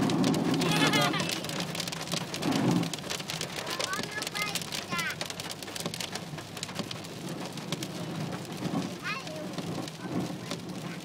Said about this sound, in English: Massive hailstorm.